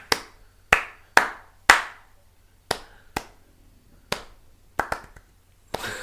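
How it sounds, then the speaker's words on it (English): Slow clap: single loud hand claps spaced about half a second to a second apart, sharp and close, with a quick double clap near the end and no talking. "slow clap"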